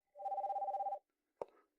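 An indoor telephone gives a single close, trilling ring lasting about a second, followed after a short pause by a sharp click like the receiver being lifted.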